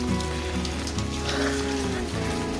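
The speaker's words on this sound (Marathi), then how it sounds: "पाऊस पडताय" Rain falls in a Konkan village during the monsoon, a steady patter mixed with a sustained droning tone and other background sounds, continuous and fairly loud.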